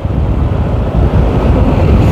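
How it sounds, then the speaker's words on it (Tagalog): Strong wind buffets the microphone during a cycling road race in a steady low roar, with rumbling gusts continuing throughout and no voices. "malakas yung hangin eh."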